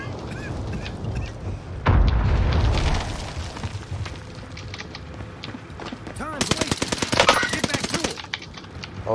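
Video game gunfire rattles in rapid bursts, close and loud, with a heavy burst around two seconds and a denser volley near the end, mixed with other game effects.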